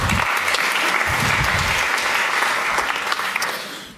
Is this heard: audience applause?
yes